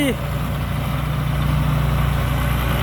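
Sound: combine harvester diesel engine idling, six-cylinder turbo

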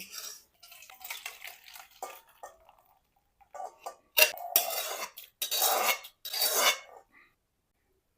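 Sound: pouring okra and puti fish sour curry from the pan

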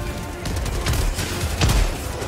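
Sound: rocket explosions in the video game Helldivers 2

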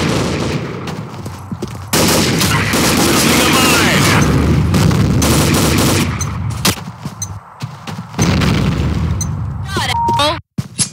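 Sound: grenade explosion in the video game Combat Arms

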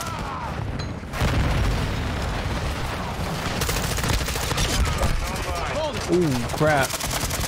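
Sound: stun grenade and gunfire in Modern Warfare video game

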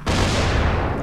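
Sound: explosions in the video game Dying Light

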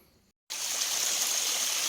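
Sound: flowing water stream

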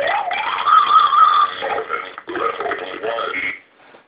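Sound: circuit-bent toy distortion glitch

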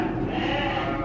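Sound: sheep bleating

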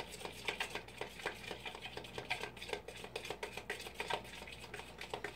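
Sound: stirring food in a pot

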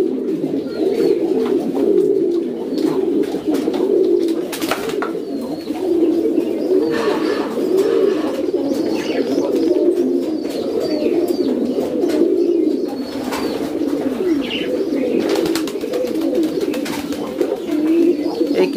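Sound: King pigeons cooing in an indoor pigeon farm

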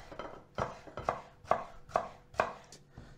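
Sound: knife chopping tomatoes into pieces

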